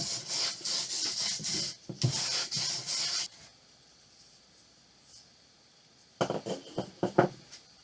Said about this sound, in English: I just kind of sanded it off, just to kind of get rid of some of the splinter part of it